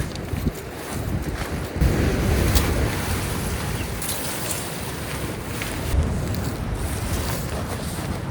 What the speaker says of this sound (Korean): 와, 바람소리 봐.